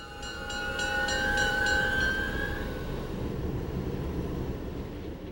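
The Chaleur passenger train turns on its line toward the Gaspé Peninsula, a steady rolling rumble with high metallic squeal or horn-like tones ringing through the first half, then fading to a broad, even roar.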